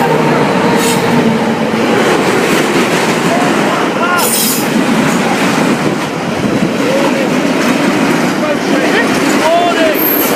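Train rushing past a level crossing at Hykeham station in Lincolnshire, loud and close with continuous rumbling roar, clattering wheels and occasional squeals, while voices are heard faintly in the background.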